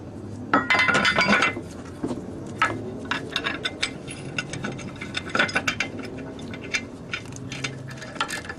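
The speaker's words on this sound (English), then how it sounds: "It's only a 1/4 inch ratchet." A 1/4 inch ratchet tightening the nut on a boat's zinc anode by hand, with light metallic clicks and clinks of the tool and parts, close up, in scattered bursts and no speech.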